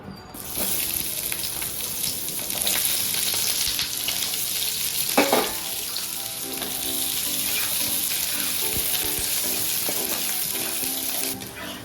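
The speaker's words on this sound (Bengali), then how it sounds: "অল্প করে তেল নিয়ে নিয়েছি পেঁয়াজ রসুন আদা কুচি আমি এগুলোকে ভেজে নিচ্ছি" Chopped onion, garlic and ginger fry in a little oil for a homemade chicken curry, a steady loud sizzle running throughout with occasional stirring scrapes and clinks.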